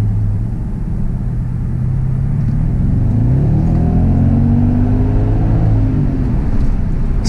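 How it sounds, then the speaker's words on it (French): A car overtaking in the left lane alongside an Audi RS6 C5, its engine rumble swelling steadily and close over several seconds beneath a constant road drone, with no talking. "il y a une voiture qui va me doubler, voie de gauche"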